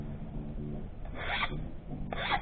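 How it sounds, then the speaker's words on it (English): A metal file drawn across the edge of a cube in a metal shop, heard as two close, raspy forward strokes separated by a short pause. "with filing, you're starting across one edge, uniformly across"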